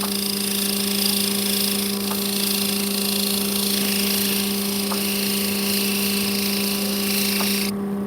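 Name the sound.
sander grinding opal stones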